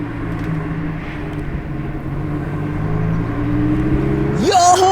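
An orange Lamborghini STO approaches on the road with a steady low engine drone that builds gradually, then a sharp rising rev as it passes near at the end.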